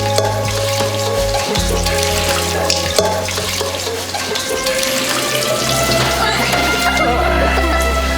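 Tap water runs steadily while dishes are washed at a sink, a continuous splashing hiss with faint clinks, alongside a coworker who keeps chatting.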